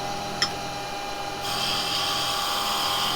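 A carbide chisel cuts into wood spinning on a lathe, giving a steady, close, high-pitched hiss that brightens and grows slightly louder partway through.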